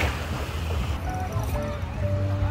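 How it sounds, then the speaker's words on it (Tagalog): Sea waves wash and break on a beach in Calayo, Batangas, a continuous low rumbling surge with wind noise, fairly loud and without voices. "yung maririnig mo na lang yung hampas ng alon."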